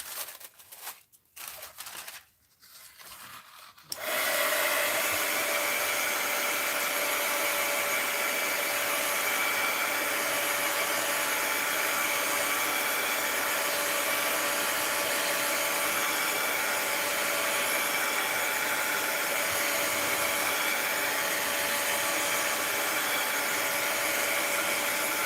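A hair dryer blows a steady, loud whoosh across a mixed media art journal page, switching on after a few seconds of handling noise and running continuously up close without talk.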